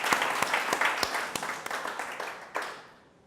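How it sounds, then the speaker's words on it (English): Applause from the audience at a New York think tank event as a company CEO is welcomed: dense clapping with a few sharper claps standing out, loud at first and thinning and fading toward the end. "Give a round of applause for him and for his company"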